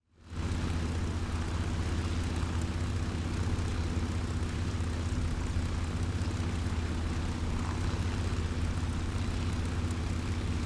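Propeller airplane engine in the War Thunder flight game, a steady loud drone with a deep low rumble that holds unbroken from start to finish, close and alone without voices.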